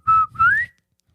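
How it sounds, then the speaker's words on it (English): A short two-note whistle of the Ed, Edd n Eddy theme, a brief falling phrase then a rising slide, clear and close with nothing else around it. "all week I've been whistling the Ed, Edd and Eddy theme song"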